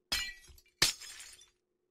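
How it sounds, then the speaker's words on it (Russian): Two quick glass-breaking crashes in Minecraft, each a sharp shattering hit with a short tinkling tail, close and clear with silence after. "Сломай стекло, мелкий, ему."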